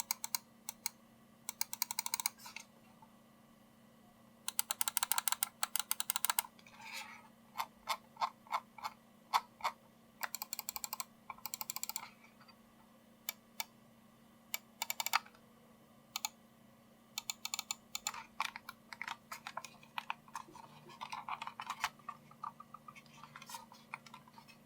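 Switches and scroll wheel of a Fantech Aria XD7 egg-shaped gaming mouse click in quick irregular bursts, crisp close-up taps and rapid ratcheting runs separated by short quiet gaps.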